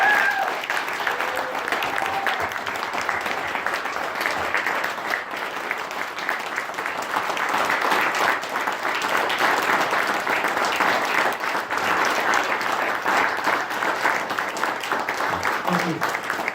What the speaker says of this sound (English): Would you please give them a round of applause for what they're doing?